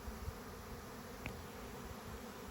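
A honeybee swarm clustered in a tree hums with a faint, steady buzz that holds evenly at a distance throughout, with no voices.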